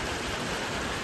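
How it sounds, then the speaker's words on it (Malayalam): Heavy rain pours down as a dense, even roar of broadband hiss, steady and unbroken for the whole brief moment. "നല്ല മഴയുണ്ട്. പെട്ടെന്ന് വെയിൽ മാറി മഴ വന്നു."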